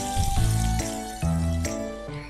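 Peanuts and salt frying in hot oil, a close, crackling sizzle that swells in a few surges with faint clinks, alongside a steady tonal hum and no talk.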